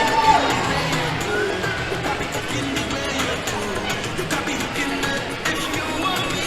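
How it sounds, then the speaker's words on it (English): A crowd at an Easter bonnet competition in a mall cheers and whoops loudly and steadily, with scattered shouts and a dense wash of clapping noise throughout. "Ladies and gentlemen, Soraya Morrison, give her a round of applause."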